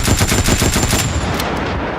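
Pancor Jackhammer automatic shotgun firing in Fallout 4, a loud, rapid burst of roughly eight booming shots in the first second, then a ringing, decaying tail.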